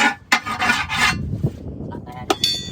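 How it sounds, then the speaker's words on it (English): A valve stem is worked loose on the tire of an International 966 tractor after a blowout. Close, scraping and rasping metal strokes come in short bursts with small clicks between them. "Let's get this valve stem loosened."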